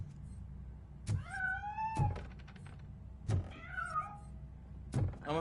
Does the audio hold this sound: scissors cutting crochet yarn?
no